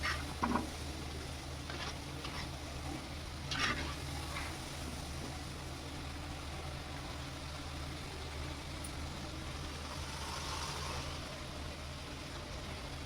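Coconut-filled karanji fry in hot oil with a low, continuous bubbling hiss, while a few gentle scrapes and taps come early as the pastries are turned.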